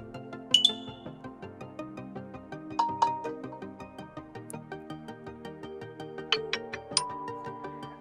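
Preview of a notification tone on a OnePlus Nord CE4 Lite phone: bright chiming, bell-like melodic tones ring out in short repeated phrases, clear and close, with no talking.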